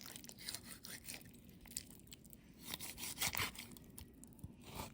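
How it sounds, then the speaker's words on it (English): A knife works through the joint of a whole turkey, separating thigh from leg: quiet irregular tearing, crunching and squelching of meat and cartilage, close and faint, in short bursts with no talk. "Now I'm gonna separate the thigh from the leg, and there's another joint right here."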